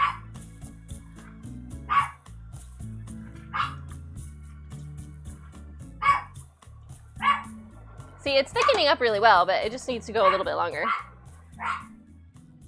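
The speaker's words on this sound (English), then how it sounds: "Stop barking." A pet dog named Rusty barks in sharp single yaps spaced every second or two, then breaks into a rapid, frantic volley of barks and whines, close by in a kitchen while a person talks between the outbursts.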